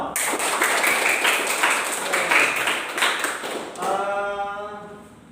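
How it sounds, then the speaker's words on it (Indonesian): Schoolchildren in a classroom clap their hands together after a movement game, a loose, fairly loud burst of many hands that stops abruptly, followed by a brief ringing tonal sound fading out. "Oke, tepuk tangan semua"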